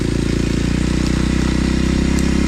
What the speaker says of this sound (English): Let's do a few more laps in here and talk about the KLX 230 before we go.